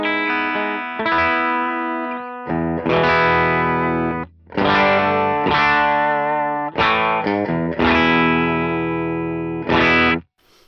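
An electric guitar plays sustained, heavily driven chords and phrases through a switched-on boost pedal, loud and saturated with a thick, pushed tone and brief gaps between strums.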